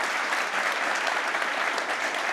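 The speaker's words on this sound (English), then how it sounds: "One more round of applause for Jessica" A conference audience applauds a speaker after a talk on web frameworks, giving steady, dense clapping that stays loud throughout.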